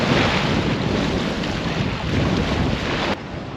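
Waves and wind on a small beach on a Scottish isle near Staffa, a loud, continuous rushing roar with heavy wind buffeting and no voices.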